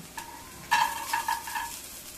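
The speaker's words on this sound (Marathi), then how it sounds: "कांदा मस्तपैकी असा लालसर परतून घेऊया आपण" Onions browned to a reddish colour in a pan for spicy misal, with cashews tipped in. A soft steady sizzle rises suddenly and louder partway through, then pulses in short bursts of stirring and frying.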